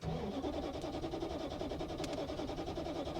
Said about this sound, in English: we're going to hit the starter here